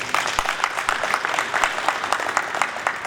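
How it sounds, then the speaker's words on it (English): Audience at a community convention breaks into applause, a steady crackle of many hands clapping at moderate distance, uneven bursts keeping up throughout with no talk over it. "A round of applause."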